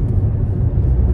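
Diesel engine of a 2006 Saab 9-3 1.9 TiD convertible under acceleration, a steady low droning rumble that holds without building, as the slow turbo has yet to come in.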